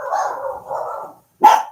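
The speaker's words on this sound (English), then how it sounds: "They are just barking because I made a noise." A dog gives a drawn-out whine or yowl, then after a brief pause lets out one short sharp bark, close by.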